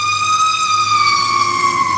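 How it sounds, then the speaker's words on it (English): A fire truck siren wails outside, loud and steady, its high tone held and sliding slowly downward with no other sounds over it. "Sounds like a fire truck."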